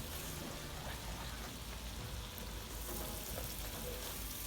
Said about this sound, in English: now we stir it up